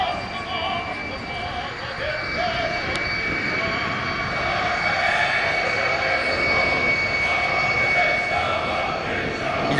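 Lockheed T-33 jet trainer taxiing at an air show meeting in Orléans, its jet engine a steady, continuous whine and roar held at even loudness throughout, with talk faintly present.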